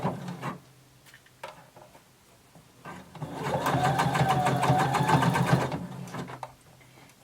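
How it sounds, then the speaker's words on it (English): Sewing machine running a sleeve underarm seam, a sustained whirring stitch burst of roughly three seconds, preceded by soft clicks and fabric handling, close by. "we're going to start at the bottom, underarm seam. And we're going to sew using 5/8 of an inch seam allowance"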